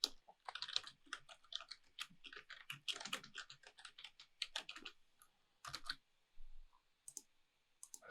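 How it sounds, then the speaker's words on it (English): Fast typing on a computer keyboard while entering text into an e-learning authoring program, close-up irregular bursts of crisp key clicks with short pauses, alone without speech. "Now I can type in what I wanted to say."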